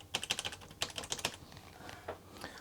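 Keys clatter on the built-in keyboard of an Amstrad NC100 Notepad portable computer under repair, a quick close run of light plastic taps followed by a few sparser presses.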